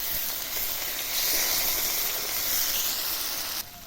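Slit green chillies, tomato, radish and potato pieces hiss steadily in a hot pan for a spinach dish, a continuous close sizzle that swells slightly midway and drops off abruptly near the end.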